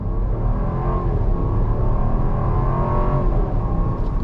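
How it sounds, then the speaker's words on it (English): A 2022 Jeep Grand Cherokee with a V8 of over 350 horsepower accelerates under throttle, giving a steady, loud, deep engine rumble that holds without a break. "Nice rumble from the vehicle. It's not a bunch of artificial stuff."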